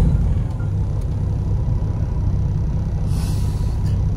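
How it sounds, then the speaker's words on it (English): A truck on the road, a steady low engine rumble and drone running throughout with faint higher hiss, close and continuous, no talk. "Let's get the truck started"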